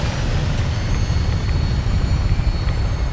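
An aircraft takes off in the Fallout 4 video game, a steady, loud low rotor-like rumble with a droning engine hum that holds evenly throughout.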